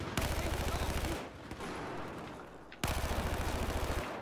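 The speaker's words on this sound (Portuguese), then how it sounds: "Tiroteio eu tô escutando, cara." Automatic gunfire in the video game Battlefield 4 rattles in fast, evenly spaced rounds, a sustained burst, then a lull of quieter ambience, then another long burst, fairly loud and close.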